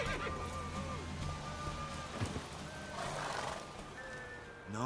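A horse in The Witcher 3: Wild Hunt neighs after a race, a loud, drawn-out whinny with wavering pitch that rises again at the end over low background rumble.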